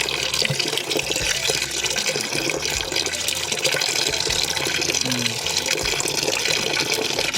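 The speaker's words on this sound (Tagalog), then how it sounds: "Mahina yung ating tubig." A weak, steady trickle of tap water runs in a newly built house with no water filter yet installed, a continuous wash of flow that fills the whole stretch while people talk over it.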